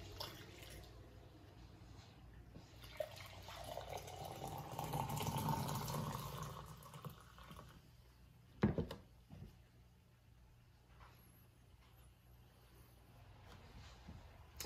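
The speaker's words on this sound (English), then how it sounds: "Let's pour this." Brewed Kenya Rift Valley coffee pours into a cup in a soft, steady liquid stream, rising in the middle and tapering off, with a brief clunk of a vessel being set down near the end.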